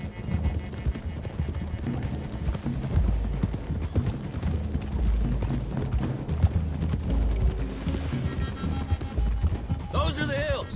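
Horse hooves clip-clop steadily in the Red Dead Redemption 2 video game, a rhythmic trot mixed with music and a voice talking over it, with a brief whinny-like flourish near the end.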